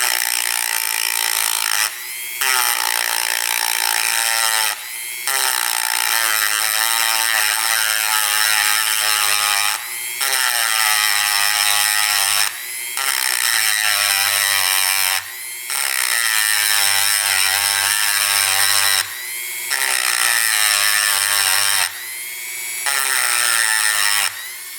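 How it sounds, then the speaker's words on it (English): A small handheld grinder cuts off pins on an old motorcycle that sat for 27 years, a loud high whining grind in repeated bursts of a few seconds each, separated by short pauses. "Alright, I've got our little grinder here. Let's just grind those off."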